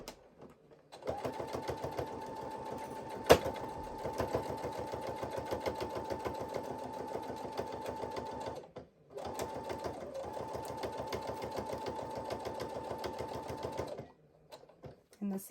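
Close up, a sewing machine stitches fabric for a heart-shaped zipper pouch with a fast, even mechanical chatter in two long runs. It stops briefly for the pivot at the turn and then resumes.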